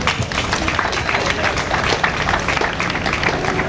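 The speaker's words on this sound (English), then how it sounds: "So clap for yourself." Crowd clapping at a Ghanaian light and light-based technologies event, a loud, continuous rattle of many hands with a busy, dense texture and no pause.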